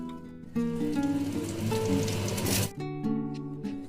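Sesame seeds dry-roast in a hot pan, a steady fine crackle and sizzle that swells for a couple of seconds before stopping, with a faint tonal background sound underneath.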